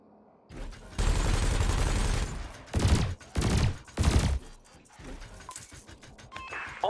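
Ship weapons in Elite Dangerous fire at floating canisters during a combat evaluation, loud bursts of sustained blasts followed by several short, separate volleys, with softer electronic tones between shots.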